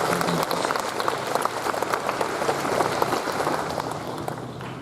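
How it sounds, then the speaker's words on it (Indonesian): Applause from a gathering at a morning flag ceremony, a steady dense patter of many hands clapping that holds at an even level, heard on its own without talk. "Mungkin boleh kita beri aplaus."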